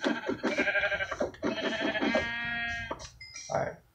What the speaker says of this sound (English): Can kill this sheep just for its meat.